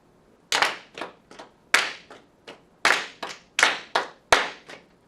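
A class of students claps a short rhythm together in a classroom, giving loud, sharp group claps in clear patterned bursts separated by brief pauses.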